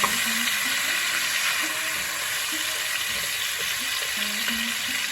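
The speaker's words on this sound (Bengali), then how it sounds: "বেগুনটা ভালো করে ভেজে নিই, ভালো করে ভাজতে হবে।" Eggplant seasoned with salt and turmeric frying in a pan, a loud continuous sizzle with steady crackle throughout, no speech.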